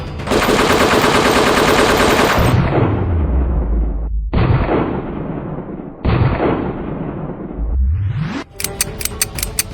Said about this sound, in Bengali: নিচে গুলি কর, প্যান্টে গুলি কর।